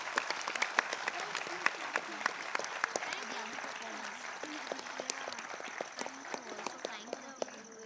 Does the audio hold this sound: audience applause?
yes